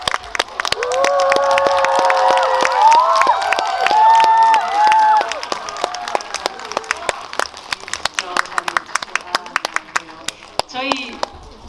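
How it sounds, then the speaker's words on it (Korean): Cinema audience at a CGV Yeongdeungpo Starium film event claps to welcome two actors and a director, with scattered sharp claps and cheering while a voice speaks loudly over them and a brief whistle-like tone near the end. "큰 박수 부탁드립니다."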